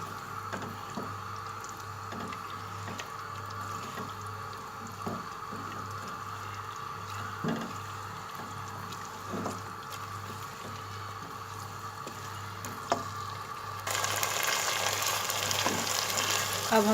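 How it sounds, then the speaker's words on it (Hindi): Beef pasanday with fried onion fries over a high flame, a steady sizzle broken by regular scraping stirs and taps of the spoon, the hiss growing louder and brighter near the end. "अब हम फ्लेम हाई करके इसको भूनेंगे।"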